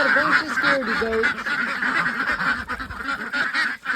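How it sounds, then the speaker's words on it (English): Farm ducks, with geese-like honks mixed in, quack and honk continuously in a busy overlapping chorus, fairly close and steady throughout. "Still a bunch of scaredy ducks."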